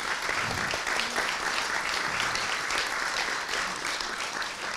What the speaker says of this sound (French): Je pense qu'on peut applaudir Monsieur Bembe